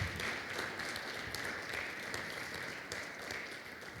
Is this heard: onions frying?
no